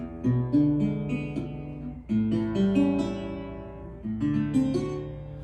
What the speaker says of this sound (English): With blues, they're almost always going to be dominant chords